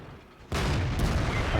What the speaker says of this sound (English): And there's artillery again.